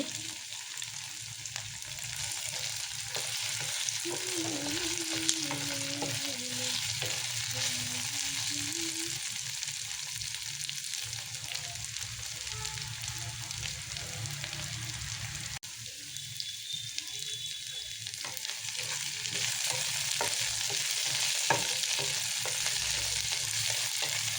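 Chicken pan roast sizzles steadily in a hot pan, a continuous frying crackle holding near and even throughout with occasional stirring scrapes.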